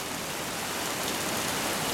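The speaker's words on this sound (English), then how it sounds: "A fairly heavy rain." Thick, fairly heavy rainfall hisses without pause and with almost no wind, loud and near, holding an even level over the short stretch, no voices present.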